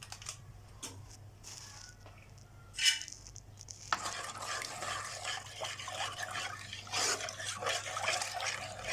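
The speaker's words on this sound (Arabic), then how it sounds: "نقلب طبعا يا جماعة فيه كده عشان ما يعملش اي تكتلات معانا" Béchamel sauce with a stock cube being stirred in a pot, soft close scraping and liquid swishing that grows busier after a quiet start, no talking.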